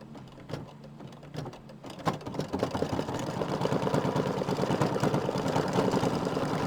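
Embroidery machine stitching a tack-down basting line through three fabric layers, a steady, fairly loud mechanical whir with rapid needle pulses that swells after the first two seconds and runs continuously without talk.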